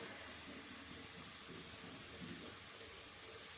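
Cinnamon and bay leaf dropped into hot oil for chicken biryani, giving a faint, steady hiss of gentle sizzling that holds evenly throughout with no talking.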